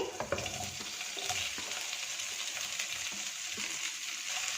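Mixed vegetables hit about three spoonfuls of hot cooking oil in a pan and fry with a steady, fairly quiet sizzle, broken by a few soft scraping stirs.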